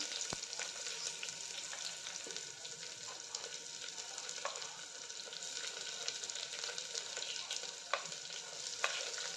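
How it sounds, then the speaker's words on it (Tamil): Fennel seeds frying in oil for vegetable biryani, a continuous soft crackling sizzle with scattered small pops and ticks, steady and fairly quiet. "சோம்பு கொஞ்சம் போட்டுக்கிறேன். அதெல்லாம் கொஞ்சம் ஃப்ரை ஆனதும்"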